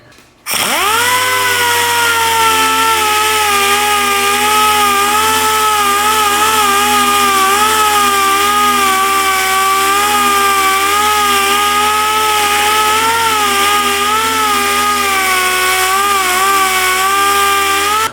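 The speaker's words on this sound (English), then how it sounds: "the 40 grit on the DA actually takes it down pretty good and smooths it out" A dual-action sander fitted with a 40-grit disc grinds down a bare steel bumper for a custom Toyota 4Runner, giving a loud, steady, whining drone that holds without pause for the whole stretch.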